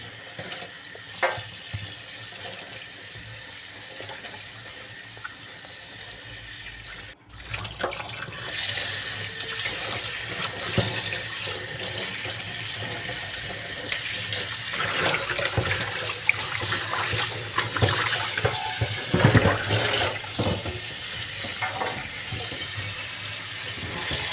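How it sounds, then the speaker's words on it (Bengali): Pumpkin leaves rinsed under a running kitchen tap, a steady close splashing rush of water that continues nearly without pause, briefly dropping out once before resuming with occasional louder gushes. "এইগুলোকে ভালো করে ধুয়ে দিচ্ছি"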